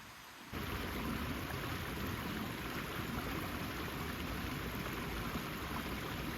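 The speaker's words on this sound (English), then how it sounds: "And down bottom of the valley now, and walking along the river." River flowing through a valley bottom beside a hiking trail in southern Sweden in November, a steady broadband rush of water that starts abruptly and continues evenly, close and fairly loud.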